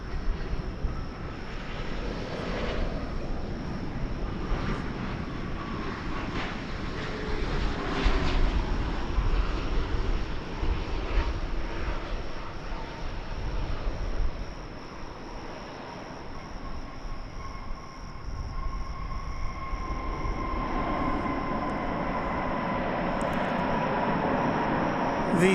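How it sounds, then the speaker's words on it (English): Boeing 787-9 Dreamliner at DFW airport on a morning arrival, a continuous broad engine roar and rush that swells and fades slightly, heard from a distance outdoors with no talk. "Dreamliner time here at Runway DFW."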